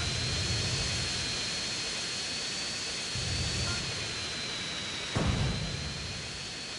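A jet plane engine in the video game GTA San Andreas roars as a steady, loud whine and rush, with brief swells of low rumble as it flies.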